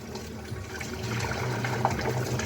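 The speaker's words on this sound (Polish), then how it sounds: "wyjebać wodę z ryżu" Water from a pot of cooked rice being poured off in a kitchen, a steady close rushing splash with low gurgling that runs without a break.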